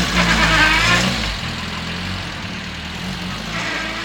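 A car engine idles steadily at close range, with a low rumbling hum that is slightly louder at first, then settles into an even, continuous drone.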